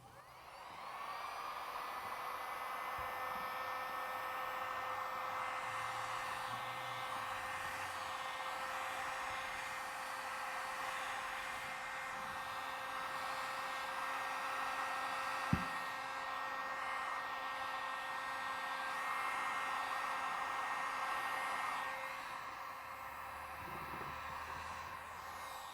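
A heat gun blows hot air across a dented plastic car bumper in a steady, even whoosh that lasts throughout, broken only by a single faint click.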